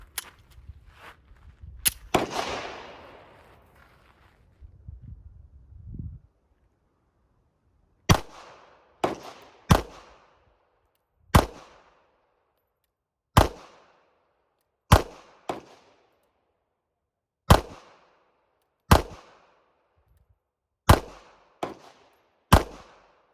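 A Ruger LCP Max compact pistol fires ten rounds as sharp, loud, separate cracks spaced about a second or two apart, following an early burst of shots and a clatter.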